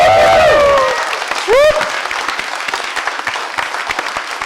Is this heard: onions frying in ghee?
no